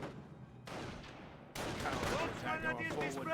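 Rifle squad gunfire in the World War II strategy game Company of Heroes, with rattling bursts of small-arms fire from a fight near heavy cover, heard alongside game voices and commentary.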